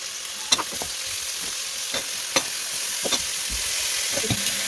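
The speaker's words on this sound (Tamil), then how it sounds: "இதையும் சேர்த்து நல்லா வதக்கி விட்டுருவோம்" Ingredients sizzling steadily in a hot pan as they are sautéed and stirred for beef bone soup, with scattered close spatula scrapes and taps over the continuous frying hiss and no talk.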